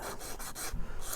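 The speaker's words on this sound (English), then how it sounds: "I'll go down with a slightly finer sander as well" Rhythmic rubbing strokes of a sanding stick on the plastic leading edge of a 1:144 scale C-141B Starlifter model wing: close, steady back-and-forth rasping of about six passes, fairly quiet.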